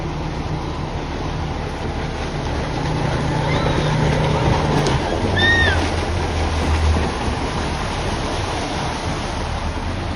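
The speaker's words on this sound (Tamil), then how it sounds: "பைக்காரா படகு இல்லத்தில் படகு சவாரிக்கு பெட்ரோல், டீசல், மோட்டார் படகுகள் பயன்படுத்தப்படுகின்றன." Steady engine drone of petrol and diesel motorboats on Pykara lake, with a low hum running throughout and a few faint bird chirps midway.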